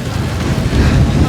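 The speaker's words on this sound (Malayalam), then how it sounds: "കാര്യം അത്രയും കാറ്റാണ്." Strong wind gusting across the microphone beside the Suchindram temple tank, a loud low buffeting rumble that builds and thickens over the short span, with no clear voices.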